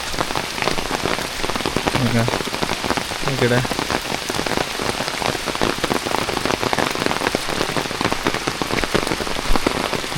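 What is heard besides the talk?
rain falling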